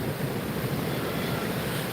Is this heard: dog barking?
no